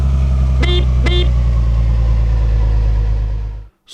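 A truck idles with a deep, loud engine drone while its horn gives two short honks in quick succession, then the engine noise cuts out.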